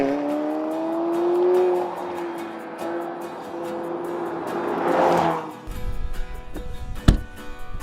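McLaren 720S Spider engine revving hard and accelerating, a loud rising and falling engine note with a strong surge around the middle, then a quieter, rougher stretch with a sharp burst near the end.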